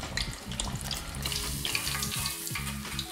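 Wagyu beef cutlet deep-frying in oil at 180 degrees Celsius, a steady dense crackle and bubbling sizzle that stays close and loud throughout, with no voices.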